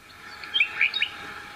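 A nightingale sings a few quick, bright chirps and whistled phrases over a faint, quiet background, the notes clustered in a brief burst.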